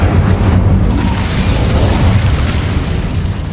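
The Incendio fire spell in Hogwarts Legacy erupts as a loud, sustained roaring blast of fire with a heavy low rumble that stays steady throughout and fades slightly at the end.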